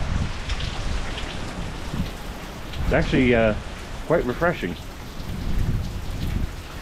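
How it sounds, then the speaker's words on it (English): Heavy rain pours steadily during Hurricane Milton in Florida, a dense close hiss with gusty wind rumbling underneath, while a person talks briefly over it. "And you can see that the rain is pouring."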